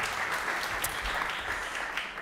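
A brief, steady wash of audience clapping welcomes panelists at a talk on local investigative reporting. It is moderately loud and even, with a faint voice underneath.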